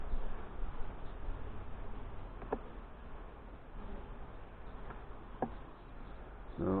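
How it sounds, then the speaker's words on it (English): Honey bees hum faintly in a low, steady buzz from an opened hive during a June inspection, with a few light clicks over the drone. "Definitely a lot of bees in here."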